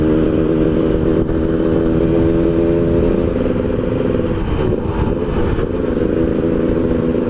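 A motorcycle with a ported exhaust revs hard and steadily in third gear, a loud close engine drone holding high rpm throughout with a brief dip midway, no talk.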